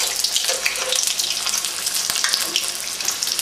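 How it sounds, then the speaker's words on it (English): Beer-battered fish frying in a pan of hot oil, a steady close crackling sizzle with small bursts and pops running throughout, no voices. "throw it in, one piece at a time. Move it around a little bit just to make sure it doesn't stick to the bottom of the pan"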